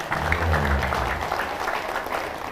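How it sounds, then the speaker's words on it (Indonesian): A congregation at an Islamic sermon in a village gathering breaks into steady applause, a dense wash of clapping that holds at an even level, with low murmuring beneath. "Nah, baru tepuk tangan."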